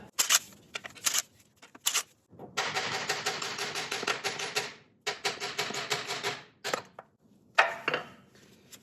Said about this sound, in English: we just need to remove these 3 screws and then we'll pull this whole thing out